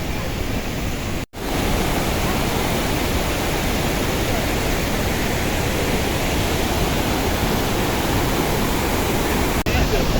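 Iguazu Falls in Brazil roars as a massive waterfall, a loud, continuous broadband rush of falling water close by that fills the whole stretch, with a brief dropout near the start.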